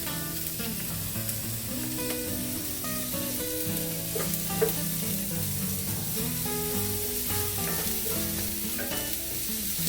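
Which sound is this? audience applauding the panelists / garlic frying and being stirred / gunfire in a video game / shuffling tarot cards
garlic frying and being stirred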